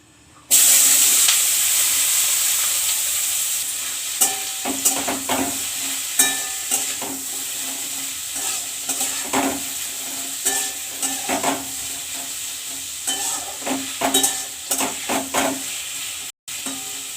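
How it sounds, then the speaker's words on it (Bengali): Potatoes fry with green chillies in hot oil in a home kitchen. A loud hiss bursts up as they go in, then settles into a steady sizzle with repeated scraping stirs, close to the microphone and with no voices. "কাঁচা লঙ্কা দিয়ে আলু ভাজবো"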